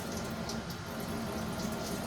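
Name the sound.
water running from a tap, heated water for washing dishes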